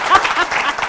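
An audience breaks into a brief burst of clapping for a woman on stage, a short, close patter lasting about a second, with faint voice traces mixed in.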